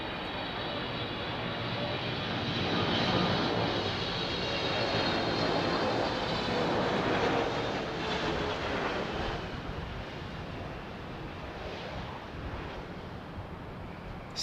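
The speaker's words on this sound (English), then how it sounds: "Oh, this looks like a 777-200. Air Canada, nice." An Air Canada Boeing 777-200 in Bandit livery lands in blustery, gusty conditions, its broad engine roar swelling to a peak early on and then slowly easing, steady and unbroken with no voices.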